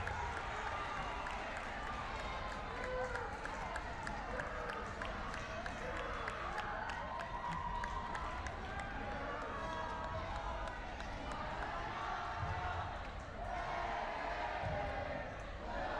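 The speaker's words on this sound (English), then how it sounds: "Definitely getting some rowdiness from both sides of the crowd" Rowdy crowd noise from both sides of the stands at a girls' high school playoff basketball game against Claysburg, a steady broad roar with applause and shouting running the whole way under and around voices.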